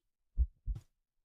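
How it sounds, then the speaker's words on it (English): A single heartbeat sound effect, one lub-dub pair of deep, muffled thumps, close and isolated against silence. "You feel like you can hear your heartbeat."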